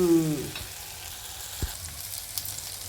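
Green turkey berries sauté in a pan with a soft, low sizzle, and one sharp knock of a utensil lands partway through, followed by a few faint scrapes.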